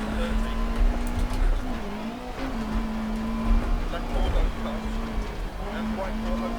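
A rally car engine in DiRT Rally in Sweden, pulling hard from first gear with a steady droning revving note, close and sustained, while someone talks over it.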